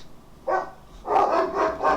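Several dogs bark in a room, a single yap followed by a cluster of three louder barks, close and fairly loud.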